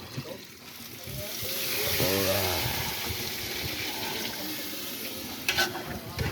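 Water is poured into a frying pan of papaitan stew, and the sizzle swells into a broad hiss and bubbling. A voice speaks briefly, and a few clinks come near the end.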